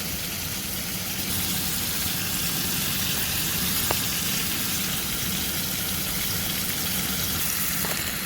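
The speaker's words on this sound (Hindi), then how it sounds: "मिक्स कर लेंगे अच्छी तरह और चिकन वाइट होने तक इसे कुक करेंगे" Marinated chicken for tikka sandwiches fries in a pan with a loud, dense, continuous sizzle heard up close, steady throughout with a faint tap or two and no talking.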